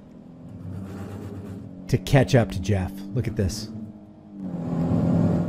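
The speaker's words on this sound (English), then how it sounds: "Listen to his engine revving." A car engine revs and rumbles as it accelerates to highway speed, steady beneath someone talking over it, then swelling louder once the speech stops.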